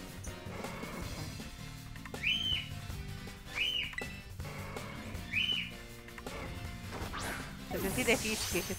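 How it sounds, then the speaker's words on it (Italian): A parrot whistles short rising notes several times at regular intervals, fairly close, indoors behind a person playing Pokémon Scarlet, over background clatter and low sounds. "Sentite fischi, che c'è il pappagallo letteralmente qui dietro."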